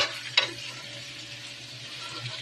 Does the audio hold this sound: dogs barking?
no